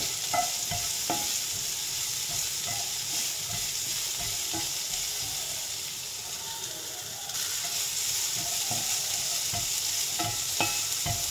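Chopped ingredients sautéed lightly in a pan until soft and translucent, a steady close sizzle with scraping stir strokes and a short quieter dip partway through, no talking.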